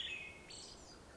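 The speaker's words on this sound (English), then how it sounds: "I woke up to the gentle chirping of birds and the soft glow of dawn streaming through my window" Birds chirp at dawn, a few thin high tweets and a short rising call heard faintly against a soft, steady background hiss.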